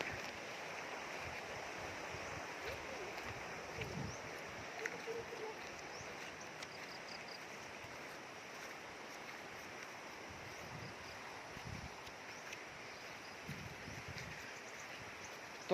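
A river flows in a green, natural outdoor setting, giving a soft, steady, distant wash of moving water with faint rustling and occasional low thumps, no voices over it.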